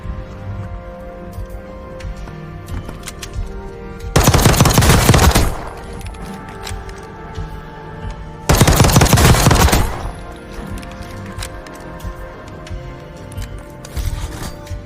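An X12 pistol fitted with high velocity rounds fired in Call of Duty, two sustained loud bursts of rapid automatic shots, each lasting about a second and a half, separated by quieter game background.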